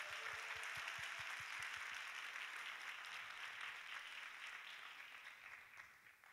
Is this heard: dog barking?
no